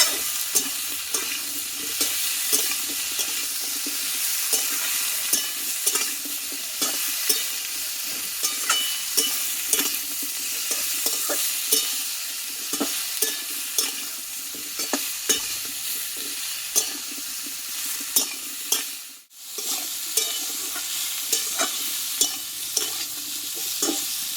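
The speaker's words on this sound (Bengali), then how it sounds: "এবার ভালোভাবে একটু তেলটাকে কষিয়ে নেবো যাতে কাঁচা গন্ধটা চলে যায়" Oil being stir-fried in a pan for a Bengali vegetarian thor dish, with a continuous close sizzle and regular scraping stirs throughout, a brief drop in sound near the end, and no voices.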